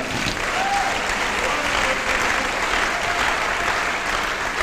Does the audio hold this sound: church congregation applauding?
yes